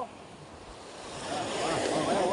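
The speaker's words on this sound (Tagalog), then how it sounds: "Ganyan po ang alon. Baksak po sa tabi." Ocean waves breaking along the shore, a faint rolling wash that swells louder toward the end with wind rumble on the microphone, heard close by.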